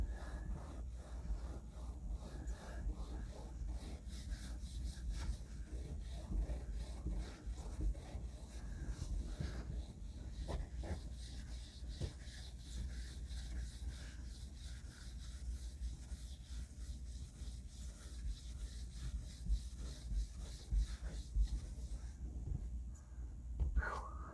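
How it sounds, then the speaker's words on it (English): Hard, pressured back-and-forth scrubbing of window tint film against glass, a continuous rubbing texture that holds steady for the whole stretch at close range with no talking. "I'll scrub it one way and now go back and scrub it away one the other way."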